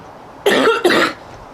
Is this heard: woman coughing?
yes